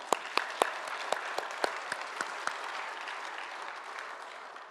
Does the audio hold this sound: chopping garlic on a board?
no